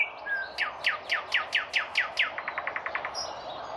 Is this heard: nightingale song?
yes